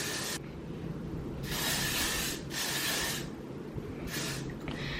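Hairspray hisses from an aerosol can onto hair in three bursts, the second long and the last shorter, each a loud, close spray over a quiet background.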